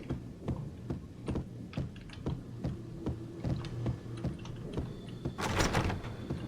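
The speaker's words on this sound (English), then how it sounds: "Locked door." A locked door being tried in the video game Max Payne: a series of dull knocks and rattles over a low, steady hum, ending in a brighter, louder clatter.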